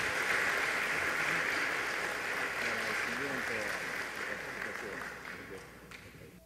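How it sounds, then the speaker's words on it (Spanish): An audience at an educators' event applauds in a sustained broad wash of clapping that fades toward the end, with murmuring voices underneath. "Un aplauso, por favor."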